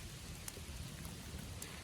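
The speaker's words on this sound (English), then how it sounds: "But it's raining" Steady rain patters down in a continuous hiss, with a few sharper drops ticking nearby.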